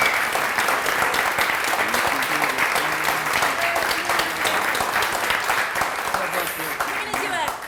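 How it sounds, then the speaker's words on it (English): A large audience applauds steadily and loudly for the whole stretch, a dense, sustained wash of clapping with voices faintly mixed in. "A round of applause."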